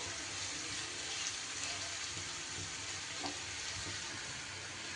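Chopped onions sizzle steadily in a hot pan as they are stirred with salt while a prawn pulao is being made; an even, continuous frying hiss, close and with no talking.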